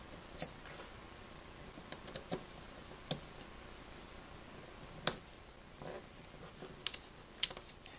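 Scissors cut carbon fiber vinyl wrap along the inside hinge of a ThinkPad laptop lid, giving quiet, scattered snips and clicks spaced irregularly over a low background hiss.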